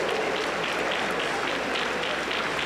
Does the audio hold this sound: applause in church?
yes